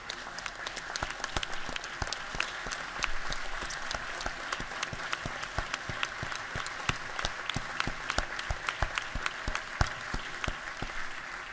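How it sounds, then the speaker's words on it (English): A legislative chamber crowd claps for employees seated in the balcony and standing on the podium, a steady spread of many hands with crisp individual claps audible in it, moderately distant and without speech. "maybe we can give them and our folks up here on the podium a round of applause"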